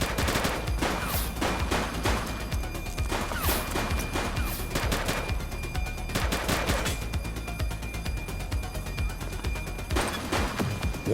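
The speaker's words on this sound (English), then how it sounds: "Shots fired!" Rapid bursts of gunfire in The Precinct police video game, loud, continuous volleys of overlapping shots and cracks running throughout with no pause.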